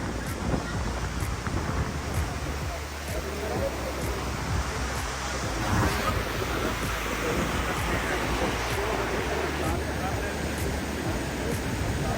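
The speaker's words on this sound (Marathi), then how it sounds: "जी नदी आहे ना ही अंबरनाथवरून थेट जो बर्फ विरगलतोय त्याची नदी आहे" A river of glacier meltwater near Amarnath in Kashmir gives a continuous broad rushing roar, with wind buffeting the microphone throughout.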